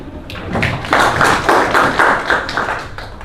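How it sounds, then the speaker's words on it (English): Clapping from a student audience at a university election debate, a short burst of close, uneven claps with some thumping hits. "Can you guys clap for Adrian?"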